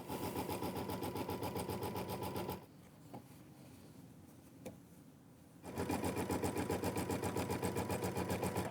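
A sewing machine stitches a placement outline on quilt fabric in two fast, steady runs of rapid needle pulses, separated by a few seconds of quiet with faint handling clicks.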